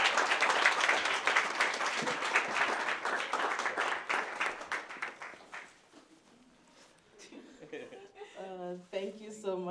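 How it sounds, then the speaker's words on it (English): Applause from a crowd at a community Black History Month celebration, steady clapping for several seconds that thins out, with a voice speaking as it fades. "Round of applause."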